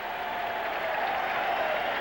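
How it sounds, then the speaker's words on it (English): A big night-game baseball crowd at Shea Stadium roars steadily at a distance while doing the wave, heard as a broad sustained cheer with a faint tonal whistle in it. "The wave is making its way around Shea, and a big crowd here tonight."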